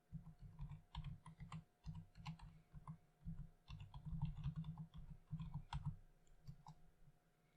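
A web address is typed on a computer keyboard, giving quiet, close, rapid and irregular keystrokes in short bursts with brief pauses between them.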